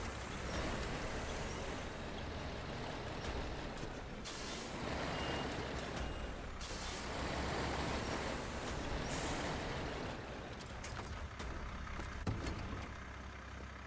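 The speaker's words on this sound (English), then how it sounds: "Oh no, I can hear his engine or his tank leaking." A truck in a driving video game idles and works, a loud continuous engine drone with sharp hissing air-brake bursts and intermittent reversing beeps layered over it.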